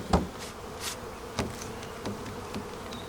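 Honeybees buzz around a hive's honey super as they are cleared out during a honey harvest. The buzzing is a steady, soft drone with occasional louder passes of individual bees close by.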